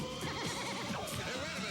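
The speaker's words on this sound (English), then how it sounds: "I didn't know Shaq could ride a horse" A horse neighs during a 1995 CFL football broadcast, a wavering, fairly faint whinny with repeated pitch swoops over crowd and arena background.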